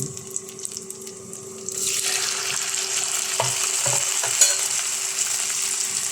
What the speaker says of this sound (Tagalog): Atin na po hahaluin ang ating shrimp.